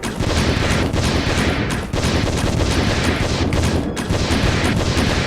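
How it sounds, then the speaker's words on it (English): Continuous rapid gunfire and booming shots in Resident Evil Code Veronica X's first-person battle game, blasting away at the boss Nosferatu; dense, loud and unbroken for the whole stretch with slight dips between bursts. "just shoot him for days"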